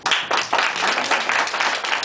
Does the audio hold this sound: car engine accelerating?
no